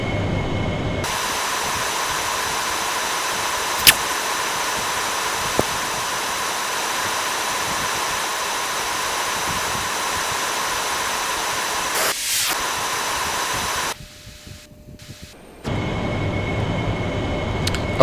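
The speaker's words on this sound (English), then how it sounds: "when you turn your fuel dump on, it will dump the fuel" Continuous roaring rush of an AV-8B Harrier dumping fuel in the DCS flight simulator, a steady loud broadband hiss with tonal whine that cuts out abruptly near the end before resuming.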